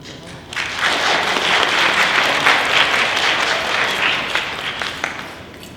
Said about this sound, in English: We ask that you provide a Greyhound clap for those being honored.